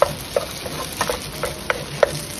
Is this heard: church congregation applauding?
no